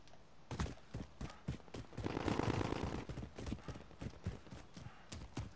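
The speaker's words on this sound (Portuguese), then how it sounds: "Tá rolando uns tiros aqui" Gunshots in Call of Duty: Modern Warfare, a string of sharp, fairly faint shots in irregular bursts with a denser rattle of fire midway, heard at some distance.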